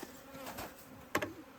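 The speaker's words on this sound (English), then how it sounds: "are like little baby bees." Young honeybees being moved to a bee yard in northern Minnesota, buzzing in a soft continuous hum close by, with one brief louder buzz as a bee passes near.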